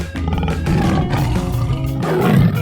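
A tiger in a 3D animal sliding video game gives a loud, rough, rumbling roar lasting a couple of seconds, close and unaccompanied by speech.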